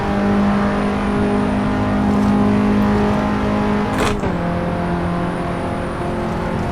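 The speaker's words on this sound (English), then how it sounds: "Probably the fastest shift I've done from 5th to 6th in my life." An Audi S1 Quattro engine screams at high revs in the Assetto Corsa racing game, holding a steady loud whine, then dipping briefly at a quick 5th-to-6th gear change before pulling on.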